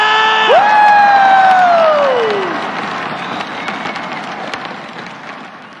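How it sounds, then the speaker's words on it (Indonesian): A crowd at a celebrity futsal match cheers and claps before kick off, a loud whistle-like rising and falling tone sweeping over the start, then shouting and clapping settling into a softer crowd murmur. "Sebelum kick off, mana tepuk tangannya, mana suaranya?"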